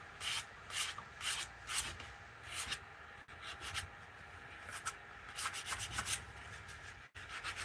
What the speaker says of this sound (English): But just after a quick 80 grit sand, you can start to see